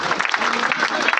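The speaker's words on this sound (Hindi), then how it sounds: "थोड़ा सा ताली भी बजाते रहिए।" A crowd at a Ghazipur election rally claps continuously in a dense, steady patter, moderately loud, with voices mixed in.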